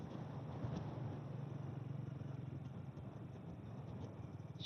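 Low, steady rumble of a car engine passing somewhere off in the distance in fog, faint and continuous with no voices.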